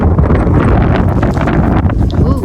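Strong wind roars and buffets the microphone in a loud, continuous rush that drowns out most other sound.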